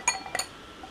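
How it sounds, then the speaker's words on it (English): Ice cubes clink against a glass of MAYRosé wine in two quick, bright taps close by, followed by quiet. "I'm gonna try this with ice cubes."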